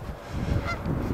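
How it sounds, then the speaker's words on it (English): Geese honk at close range in a brief burst of overlapping calls from a flock gathered outdoors. "Certainly a lot of geese here getting prepared for it."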